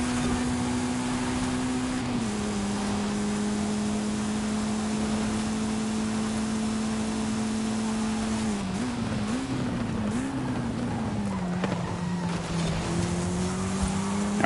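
A race car in Forza Horizon 5 holds a steady engine drone, then brakes hard as its tires squeal and the engine pitch drops and wavers before climbing again, loud and continuous.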